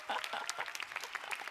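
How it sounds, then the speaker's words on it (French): Congress audience clapping at an opening-speech session, a dense steady patter of many hands over about a second and a half, moderately faint, with a voice mixed in. "je voudrais un tonnerre d'applaudissements pour Agathe"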